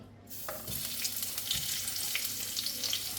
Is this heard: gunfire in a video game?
no